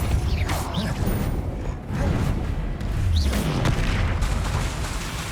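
Confringo blasting spells in Hogwarts Legacy, repeated whooshing casts and rumbling booms going off in quick succession during a spell-heavy fight, layered with mechanical creaks and swishes.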